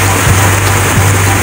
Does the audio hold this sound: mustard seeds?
no